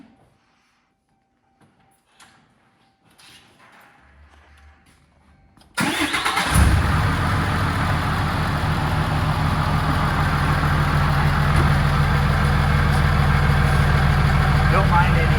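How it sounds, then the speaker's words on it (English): A car engine is cranked and fires up after an oil change, then settles into a loud, steady idle that runs unbroken to the end, following a few seconds of quiet shuffling and faint handling noises. "now we're going to fire it up and check for any leaks"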